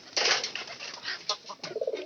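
Pigeons coo in a series of soft, throaty calls close by, with a brief rustle that may be wing movement, and no talking.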